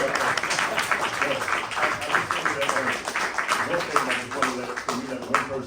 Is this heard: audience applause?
yes